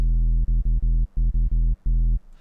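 A synthesized sub bass layer for a drum and bass bass patch plays as a deep, loud, steady low tone in short rhythmic bursts with brief gaps between them.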